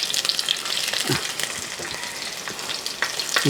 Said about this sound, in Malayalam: ഇതേപോലെ ഒരു അഞ്ചാറ് വെളുത്തുള്ളി ഒരു കഷ്ണം ഇഞ്ചി അരിഞ്ഞതും അങ്ങോട്ട് ആദ്യം എടുത്ത് കൊടുക്കാം